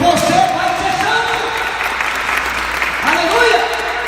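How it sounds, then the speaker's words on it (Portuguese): A church congregation applauds in a dense, sustained roar of clapping while a preacher keeps speaking loudly over it. "Aplauda essa igreja"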